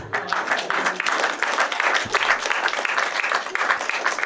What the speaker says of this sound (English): I will count it as sympathy claps.